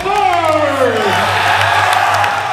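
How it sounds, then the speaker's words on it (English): A large crowd at the EVO 2011 fighting game grand finals cheers and shouts loudly, with whoops rising over a sustained roar and a low hum underneath. "Massive crowd favoritism for Spark in this case"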